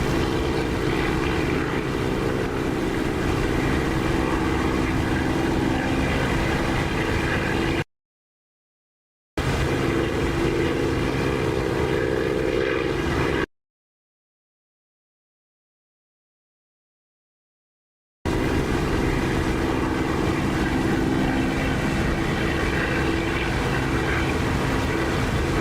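Steady propeller aircraft engine drone from the DCS flight simulator, a loud continuous hum with a low tonal throb that runs unbroken apart from two gaps of silence.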